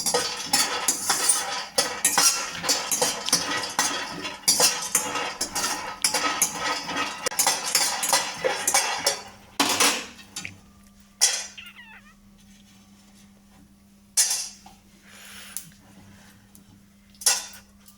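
A kadai is set on the stove for roasting spices, with rapid metallic clatter and scraping of cookware for several seconds, then quieter scattered clinks and knocks with gaps of near silence.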